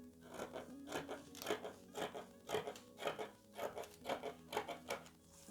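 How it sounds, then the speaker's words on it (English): Scissors snipping excess paper off a drafted bodice pattern, a close, steady run of crisp crunchy cuts about twice a second, with no talking. "Then I want to cut the excess down here."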